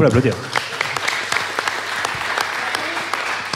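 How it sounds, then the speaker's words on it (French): Audience applause at a Beside Games session during PodRennes 2022, a brief burst of clapping from a room crowd with some individual sharp claps standing out, steady and moderately loud for a few seconds. "On peut l'applaudir"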